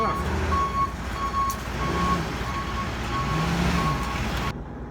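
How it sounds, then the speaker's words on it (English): A truck backing into a loading dock at a flooring pickup in Adairsville, Georgia sounds a regular series of reversing beeps under diesel engine rumble, with someone talking over it. "now he's going to back into the dock"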